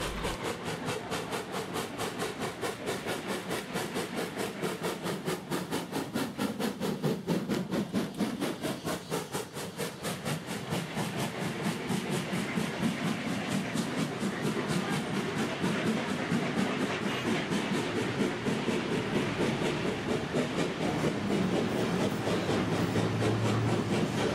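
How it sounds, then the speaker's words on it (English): Steam locomotive 3526 passes close by on a New South Wales main line at Janali, giving a loud, steady run of chuffing exhaust and rail clatter that holds the whole time with no talk. "We see the locomotive passing us at Janali."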